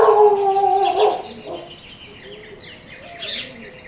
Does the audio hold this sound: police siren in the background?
no